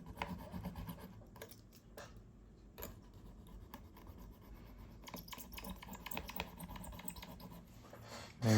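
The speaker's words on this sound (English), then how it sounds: "So I'll just cut it real quick." Blade or saw cutting through a homemade balisong insert, a steady close rasping and scraping with brief sharper scratches throughout and a louder knock right at the end.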